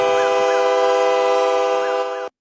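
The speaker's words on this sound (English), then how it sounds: "I'm sorry for the train horns." Loud sustained train horn blasts, a steady multi-tone chord sounding continuously and close before cutting off abruptly, with a faint wavering tone rising and falling beneath it.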